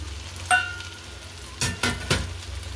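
Curry leaves hit a pan of half-softened onion and ginger-garlic paste for a Kerala beef fry, a soft continuous sizzle broken by a sharp crackle and then a few quick stirring scrapes.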